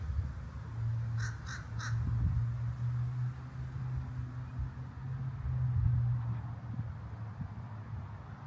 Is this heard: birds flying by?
yes